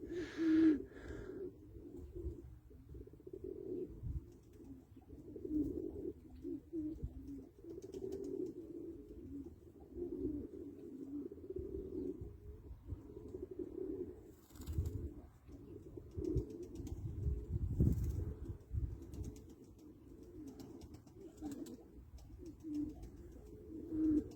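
Pigeons coo softly and repeatedly, low and throaty, with faint chirps over a quiet outdoor background.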